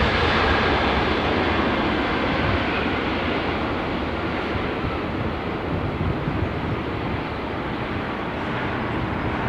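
A WestJet airliner lands at London Heathrow in low visibility, giving a loud, sustained jet roar that stays broad and steady, easing very slightly toward the end, with no voices over it.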